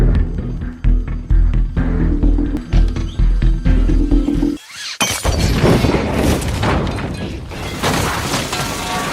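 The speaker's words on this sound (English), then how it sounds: "The explosion rattles everyone on the floor" Makeshift bomb of matches, cigarettes and soda bottles exploding in an office-building bathroom: loud rattling clatter, then a sudden gap and a heavy blast with shattering, crashing debris that rolls on for several seconds.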